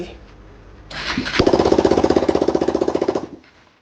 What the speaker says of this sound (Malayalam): എഞ്ചിന്റെ കണക്ഷനും കാര്യങ്ങളൊക്കെ എല്ലാം കൊടുത്തിട്ടുണ്ട് സ്റ്റാർട്ട് ആകട്ടെ